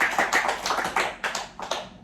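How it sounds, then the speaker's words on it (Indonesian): A small group of students claps in a classroom, a short burst of uneven, close hand claps with distinct individual strikes that thin out after two seconds. "Tepuk tangan untuk Yodia."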